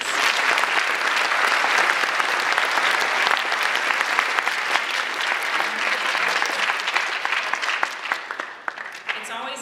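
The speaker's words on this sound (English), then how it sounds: "Let's give them a round of applause" Parents at a middle school holiday concert clap loudly and steadily for the school band, a dense round of applause that carries on for several seconds before tapering slightly at the close.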